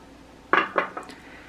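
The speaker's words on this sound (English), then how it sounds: "So we're gonna add the shells to the pot." Seafood shells dropped into a cooking pot for a sourdough seafood chowder: three quick clattering knocks in close succession, fairly quiet and close, against a soft background.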